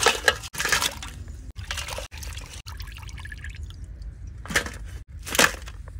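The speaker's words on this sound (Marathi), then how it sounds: "आता साफ करू आपण चिंबोऱ्या सगळ्या." Mud crabs being rinsed and scrubbed in water outdoors in a forest, with repeated splashes, pours and sloshing bursts separated by short quiet gaps, close and fairly soft.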